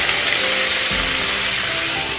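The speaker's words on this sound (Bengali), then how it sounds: "সবজিটা ভাজবো" Vegetables frying in a pan for fried rice give a steady, loud, continuous sizzle that fills the whole short stretch, with a faint dull bump partway through.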